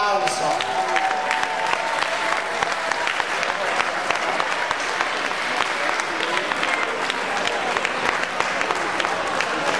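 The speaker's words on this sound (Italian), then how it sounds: "Un applauso." A crowd at a parish family festival applauds the tied third-place winners, a full, continuous roar of clapping lasting about ten seconds, loud and dense with murmured voices beneath.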